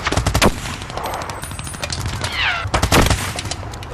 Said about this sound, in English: For Lieutenant Cassel and his machine gun unit, the advancing troops were an easy target